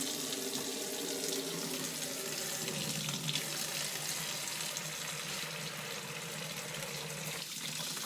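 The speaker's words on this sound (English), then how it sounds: "Rather than fill up the whole sink, I'm gonna use a bowl." Hot tap water runs steadily into a bowl in a sink, making a constant close splashing hiss without pause for several seconds, with no voices.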